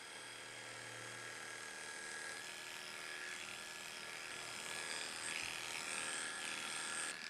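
Electric grooming clippers hum steadily at close range while being used to trim a Cockapoo, a constant high buzzing drone with a slight shift in pitch partway through.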